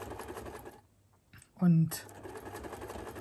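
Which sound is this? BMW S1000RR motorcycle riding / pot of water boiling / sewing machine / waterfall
sewing machine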